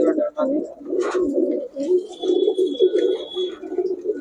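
Several male pigeons cooing in repeated low throaty rolls, close and continuous, with someone talking over them.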